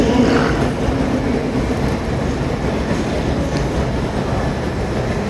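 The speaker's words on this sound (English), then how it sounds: "Boy, this is some train station." Steady low rumble of trains moving through Berlin Hauptbahnhof, a large station, a continuous rolling roar with faint clatter, no voices, fairly loud.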